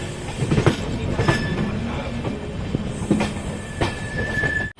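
The Amrit Bharat Express, train 14628 from Amritsar to Saharsa, pulls out of Amritsar with a steady close rumble of rolling carriages. Rhythmic wheel clicks and clanks repeat throughout, and no one talks.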